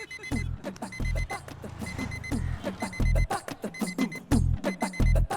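Repeated electronic alarm bursts, short loud pulsed beeps recurring about every second, alone with no voices, in a Tamil comedy film scene.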